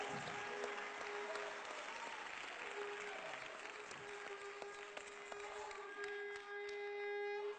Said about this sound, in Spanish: Fuerte ese aplauso a Cristo en esta hora.